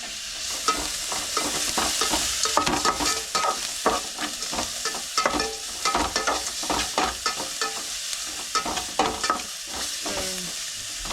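Onions sautéing in a pan for a village-style dinner, with a steady sizzle broken by repeated scraping stirs, close and fairly loud throughout.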